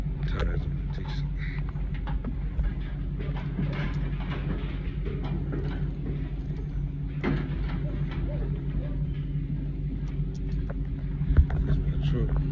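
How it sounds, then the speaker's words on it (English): A truck engine idles with a steady low rumble close by, mostly constant with a faint clunk near the end. "That's my truck."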